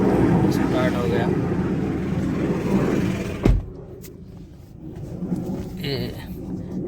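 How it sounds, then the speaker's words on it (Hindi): A Skoda Superb with random and cylinder 1 and 4 misfire fault codes runs with a loud, rough engine noise under a man's speech, then a sharp thump and a quieter, steadier engine sound. "ये स्कोडा की सुपर्ब है। ये मिसफायर कर रही है कभी कभी"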